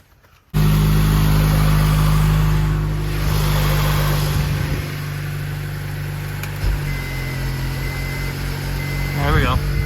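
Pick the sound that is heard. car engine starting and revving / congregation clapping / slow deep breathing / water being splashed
car engine starting and revving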